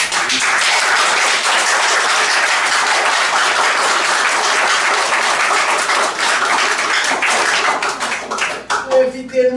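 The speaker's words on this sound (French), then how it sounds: "nous faire un grand applaudissement" A church congregation at a Sunday service breaks into dense, sustained applause, many hands clapping loudly throughout before it thins out near the end.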